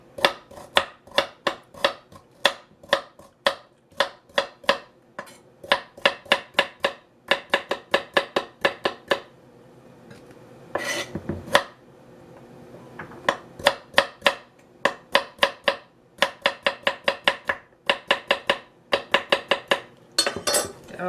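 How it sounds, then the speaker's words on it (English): Carrots being chopped on a board for Ghanaian jollof rice, sharp knife strikes in quick rhythmic bursts of several chops each, with a brief pause and scraping in the middle, close and clear with no talk. "Chop up my carrots nicely."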